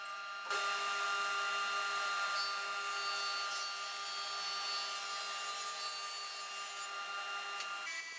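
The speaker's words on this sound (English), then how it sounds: "on the table saw, squaring it up and cutting it to size is just a series of left turns" A table saw cutting a wood panel to size for a children's bookcase: a steady, bright whirring whine that starts suddenly and holds evenly for about seven seconds, with slight shifts in pitch as the blade cuts.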